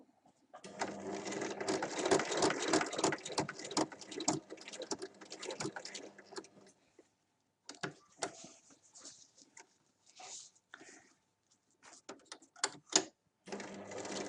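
Sewing machine stitching diagonally across a tote bag, a rapid mechanical rattle in a long continuous run, then shorter stop-start bursts with pauses between.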